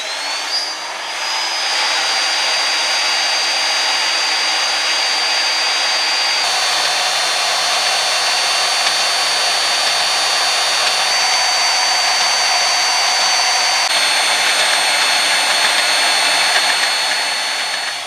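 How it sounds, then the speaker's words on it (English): A steady, loud high-pitched whine from a power cutting tool running continuously, as a strip about an inch wide is cut from a steel slab for knife making outdoors near a fire. "What we'll do now is we'll cut a strip out of here,"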